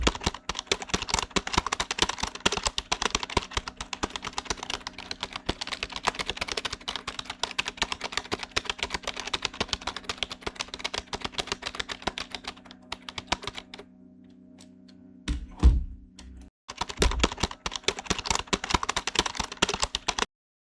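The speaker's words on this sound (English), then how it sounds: "So here I type some text for advertisement" Fast, steady typing on a computer keyboard, dense close clicking of keys that runs continuously, pauses briefly, gives a couple of louder taps, then resumes, with no voices.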